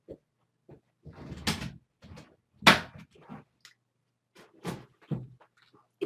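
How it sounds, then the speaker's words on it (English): A door shutting in the Minecraft video game, a few short separate clunks and thuds spaced out over several seconds, each brief and fairly loud against silence. "I'm here to shut my door"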